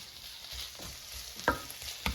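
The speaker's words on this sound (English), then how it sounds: "I can already hear the beef is sizzling" Angus beef sizzles quietly in a hot pan, a steady soft crackle broken by a couple of sharp clacks from stirring.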